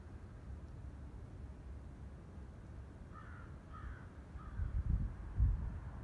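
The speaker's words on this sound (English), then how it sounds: "I hear a crow." A crow caws three or four times in a row at mid distance, hoarse and moderately faint over a low steady hum, followed by a few low thumps; no talking.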